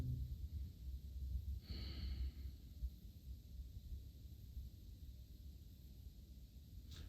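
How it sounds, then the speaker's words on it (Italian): Slow yoga breathing into the lower abdomen, faint and close, with one audible breath sound and a soft exhale later over quiet room noise. "Respiro sulla parte inferiore dell'addome."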